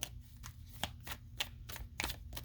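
A deck of tarot cards is shuffled close by, sounding as a run of quick, soft riffling flutters and taps at steady intervals, quiet and with no voice.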